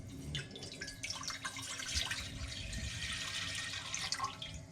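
Water for strawberry liqueur syrup pours into a pot in a home kitchen, a faint, steady splashing stream with small drips and clinks, with no voices.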